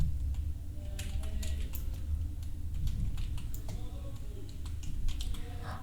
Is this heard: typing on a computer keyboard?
yes